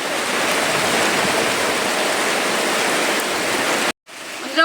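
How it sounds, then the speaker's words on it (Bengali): Heavy rain pours down in a dense, steady roar onto standing water, then cuts out abruptly near the end before a brief rustle. "এখন তো ভীষণ জোরে বৃষ্টিটা হচ্ছে দেখুন আমাদের এখানে জল দাঁড়িয়ে গেছে"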